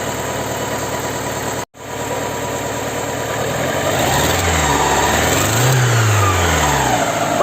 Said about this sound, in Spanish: ¿Veis notáis también la inestabilidad del motor?